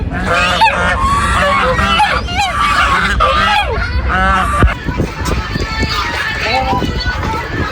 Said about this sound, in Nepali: हाँस